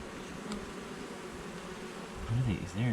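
Bees swarm around a swarm trap in a dense, steady buzzing drone that holds close and even throughout, with a brief voice rising near the end.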